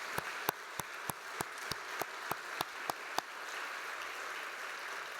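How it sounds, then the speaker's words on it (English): Applause for a university panel discussion, heard as a steady dense wash of distant clapping with a few sharper individual claps standing out through the first three seconds before settling into an even patter. "Let's give our panel a big round of applause"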